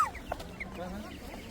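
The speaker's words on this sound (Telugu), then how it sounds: "అండ్ 600 రూపీస్ కి ఇక్కడ లైవ్ కోడి పిల్లలు అయితే అమ్ముతున్నారు." Live chickens at a hen stall in a Korean local market let out a few brief, faint clucks in a quiet moment.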